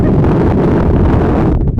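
Strong wind on a hilltop batters the microphone in a loud, steady roar with rumbling gusts that briefly dip near the end.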